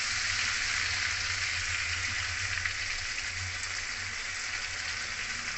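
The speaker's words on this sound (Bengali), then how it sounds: "এবার লাল লাল করে ভেজে নিচ্ছি।" Potato spring roll chips fry in plenty of hot white oil in a large wok, giving a steady, even sizzle and crackle that runs unbroken throughout at a moderate, close level.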